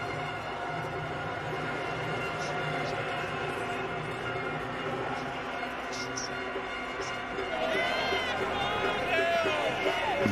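A sellout crowd at a Caribbean Premier League cricket match in Guyana makes a dense, steady din, with voices and whistles rising toward the end.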